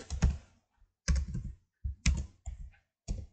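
Bursts of quick, crisp keystrokes on a computer keyboard while C++ code is being written, landing in short separated clusters with silent gaps between them, close and clear.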